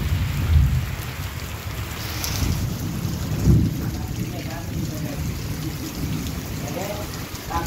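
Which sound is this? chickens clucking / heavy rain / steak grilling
heavy rain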